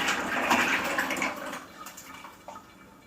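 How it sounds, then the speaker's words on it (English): Gravy is poured into a crock pot, a soft continuous liquid splash and gurgle that is steady at first, then tapers and thins out toward the end, close and moderately quiet. "I am literally going to pour my gravy in here"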